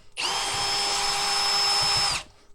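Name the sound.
power tool pulling out bolts on car inverter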